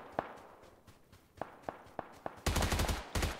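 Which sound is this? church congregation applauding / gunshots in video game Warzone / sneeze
gunshots in video game Warzone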